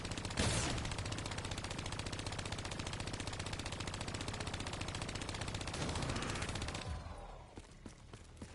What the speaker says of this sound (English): I guess let me shoot some zombies or something, try to get something else to drop.